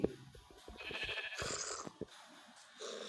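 Sheep in the Minecraft video game bleat in a short run of wavering cries, moderately close, with brief clicks and game noise around them and no talk.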